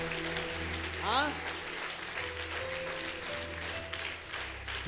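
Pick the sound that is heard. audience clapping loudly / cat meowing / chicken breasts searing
audience clapping loudly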